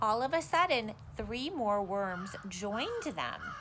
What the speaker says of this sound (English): I hear a bird in the background.